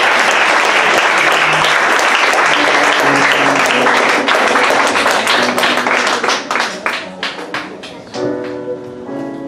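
Congregation in a church service applauding and cheering loudly, a dense sustained wash of clapping that thins into scattered claps near the end as music begins underneath.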